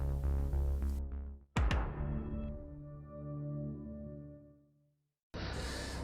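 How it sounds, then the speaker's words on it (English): The Netflix original intro sound: a low, booming thump, then a deep resonant chord that swells, sustains for a few seconds and fades out, followed by silence. "you know that sound at the start of a Netflix original program?"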